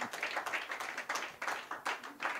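A church congregation applauds during a sermon, a brisk, steady patter of hand claps from a modest crowd, fairly soft and even throughout without talk.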